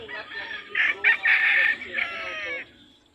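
A rooster crows loudly nearby, a long drawn-out call, while chickens cluck softly in the background on a game farm.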